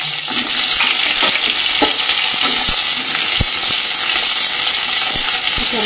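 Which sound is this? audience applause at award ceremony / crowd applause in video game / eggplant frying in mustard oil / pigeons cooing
eggplant frying in mustard oil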